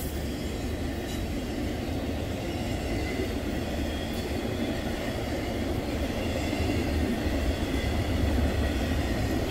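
A short Norfolk Southern UPS intermodal freight train rolls steadily past close by, a continuous loud rumble of wheels and railcars with faint squeal, building slightly toward the end, no horn sounding.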